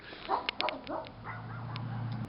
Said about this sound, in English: the devil dog next door is going to attack